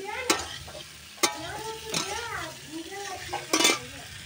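Three onions fry in a pan as a spoon stirs them, giving a soft sizzle with sharp metallic clinks and scrapes against the pan at irregular moments, close by and with no one talking.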